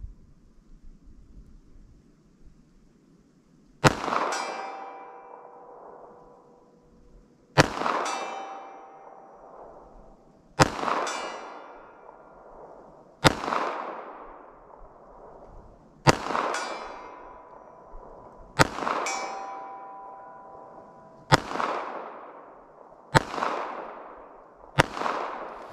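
Nine sharp gunshots from a compact handgun firing Hornady Critical Defense ammunition at a 75-yard target, spaced a few seconds apart, each a loud crack followed by a long ringing decay, with no talking.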